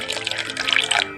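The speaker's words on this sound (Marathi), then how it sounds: "आपण थोडं थोडं पाणी करत घालून मिक्स करायचं" Water pours and trickles steadily into a bowl of semolina idli batter, a close, continuous liquid splashing that swells briefly near the end before fading.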